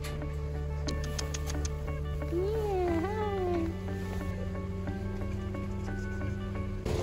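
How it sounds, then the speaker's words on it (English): A friendly cat gives a couple of rising and falling meows near the middle, heard over steady background music with no one talking. "Friendly kitty."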